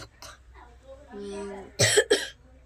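Two sharp, close coughs from an itchy throat burst out in quick succession near the end, after a short stretch of voiced humming and soft speech.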